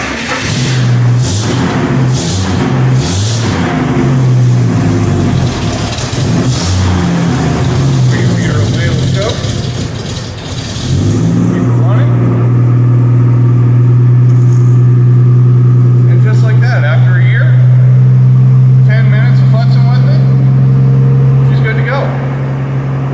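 A 1951 Chevy pickup pulled out of a few years of storage, first heard under loud talking, then firing up and settling into a steady, loud, close idle for the second half.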